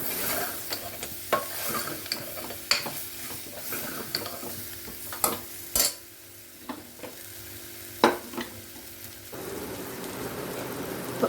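Chayote squash and curry leaves sauté in a pan, a steady spattering sizzle punctuated by irregular spatula knocks and scrapes at close range; no speech.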